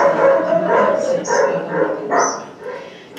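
Several dogs bark and yip in a home, loud and close, in a quick run of overlapping barks over about three seconds.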